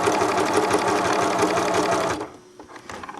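A sewing machine running a narrow, long zigzag stitch on stretch fabric, a fast rhythmic mechanical whir for about two seconds before it stops, followed by a few faint handling clicks.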